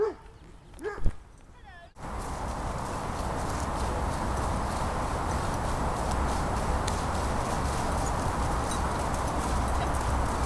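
Horse hooves clip-clop steadily over a dense background of noise, preceded by a brief moment of faint voices and a sharp knock.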